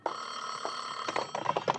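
An old-style telephone bell rings in a radio drama, a loud, sustained metallic ringing that breaks into several short bursts near the end, with no voices over it.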